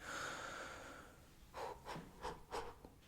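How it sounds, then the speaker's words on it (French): Deep, slow breaths drawn in and pushed out as part of a breathing exercise in a French ASMR roleplay, several soft, close airy gusts following a quiet hiss, with no talking. "Déjà, mesure de respiration, faites comme moi pour vous entraîner"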